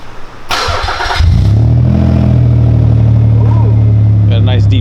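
A car engine with a custom exhaust cranks and fires, catching after about a second and settling into a loud, deep, steady idle close by, with a brief voice near the end.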